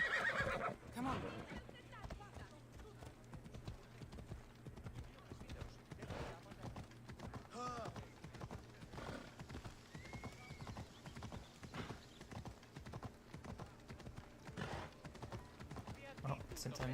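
In the Assassin's Creed Odyssey video game, a horse's hooves clip-clop steadily and a whinny breaks out at moments, all fairly quiet, while a person talks over the game sounds.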